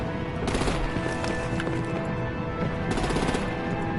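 Rapid gunfire and heavy artillery blasts in the Batman: The Enemy Within video game, a dense, continuous barrage with two sharper bursts of shots layered over a constant roar of battle.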